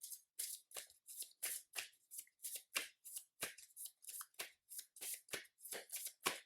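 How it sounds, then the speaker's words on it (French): A Marvel Champions card deck is shuffled by hand in a long run of quick, crisp riffling bursts, close up and steady, with no talking. "Je remélange mon deck."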